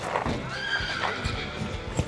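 A horse being led into a stall whinnies in short broken bursts, close by and moderately loud, with faint shuffling and hoof sounds beneath.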